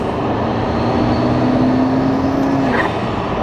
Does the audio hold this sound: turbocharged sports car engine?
yes